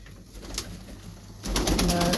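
Breeder pigeons on a rooftop coo softly, then a louder burst of fluttering and cooing rises near the end, with faint voices in the background.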